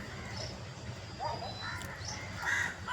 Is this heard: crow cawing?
yes